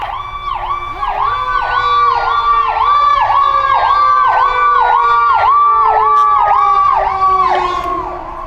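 A fire engine passes with its siren wailing in a fast, regular up-and-down yelp, loud and close, with a lower droning tone sliding beneath it as the truck goes by and the sound eases off.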